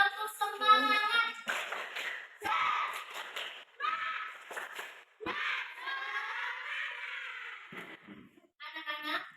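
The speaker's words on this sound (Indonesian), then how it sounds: "Tepuk semangat." A classroom of children does a rhythmic spirit clap, with bursts of hand clapping in a patterned beat mixed with children's shouting and chanting voices, fairly loud and close.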